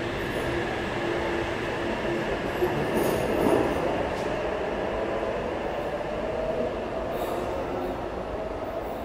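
A Sydney Trains Waterfall service rolls into platform 25 at Central Station, a loud continuous rumble of wheels on rail with faint squeals and clatter, steady throughout with no talk.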